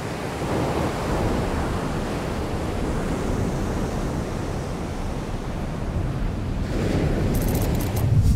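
Ocean surf rolling and breaking steadily along a shore, with cyclone-driven swell, a continuous loud wash of broad noise with a slightly stronger surge near the end, no voices present.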